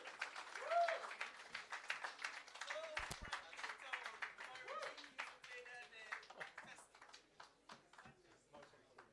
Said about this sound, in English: Let's big up Jamaica and give Jamaica a round of applause again, please.